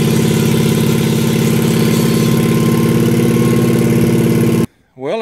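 A 4 kW Onan generator engine runs steadily and loudly with a dense, even drone for most of the span, then cuts out abruptly near the end, leaving a brief quiet with some faint sound.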